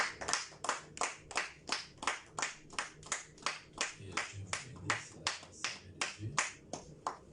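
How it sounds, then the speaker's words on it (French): A congregation at a church service applauding for the prophet: steady rhythmic group clapping in even beats, loud and close, with faint voices underneath. "tu vas encore acclamer fort pour la gloire de Dieu"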